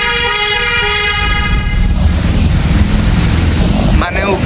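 A train rolling over a bridge, a loud rumbling clatter with a blaring horn that fades after the first second, wind noise throughout and voices faintly underneath.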